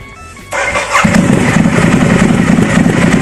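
A Ducati Diavel motorcycle engine fires up after a brief mechanical whir, then settles into a loud, close, throbbing idle with a deep rumbling beat.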